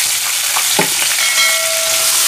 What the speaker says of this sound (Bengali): ওই তেলেই আমি লম্বা লম্বা করে আলু কেটে রেখেছিলাম সেটা দিয়ে দিচ্ছি। আলুটা একটু ভালো করে ভেজে নেব